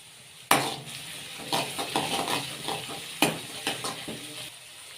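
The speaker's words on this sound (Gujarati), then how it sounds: "આપણે ડુંગળીને થોડીક વાર ચડવા દઈશું બ્રાઉન કલર જેવી થાય ને ત્યાં સુધી" Onions frying in a pan for chana dal sizzle steadily, while a spoon stirs and scrapes in repeated strokes. Two sharp knocks against the pan stand out above the close, continuous hiss.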